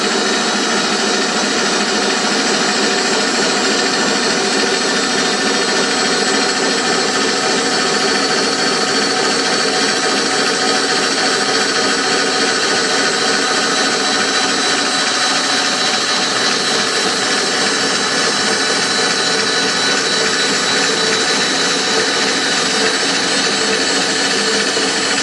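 A metal shaper machining its own ram during a restoration, a steady loud mechanical cutting drone running continuously with no talk.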